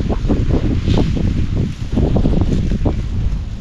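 Cold wind buffets the microphone in loud, continuous gusts with a low rumbling roar, steady across the whole stretch and with no voices.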